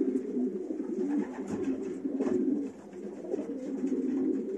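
Racing pigeons coo softly and repeatedly in a low, throaty rhythm, several birds close together with no talking.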